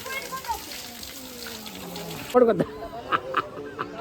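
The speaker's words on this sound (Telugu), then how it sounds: "ఎక్కడి నుంచో మన కుండలలోకి వెళ్ళి వస్తున్నాయి ఈ వాటర్" Holy temple water at Simhachalam runs and splashes steadily into pots for a few seconds, with a couple of sharper splashy bursts near the end and faint background voices.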